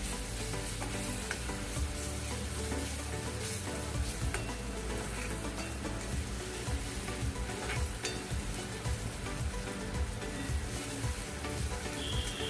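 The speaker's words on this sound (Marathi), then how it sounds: "यामध्ये मी ही आले लसूणची पेस्ट टाकते आणि तेही दोन मिनटं परतून घेते" Ginger-garlic paste sautéing with onions in a pan, a dense, steady close sizzle with constant scraping and stirring throughout.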